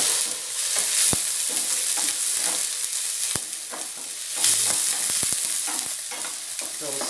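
Onion and garlic sautéing together in oil, a loud, close, continuous sizzle with frequent stirring scrapes and utensil clinks throughout.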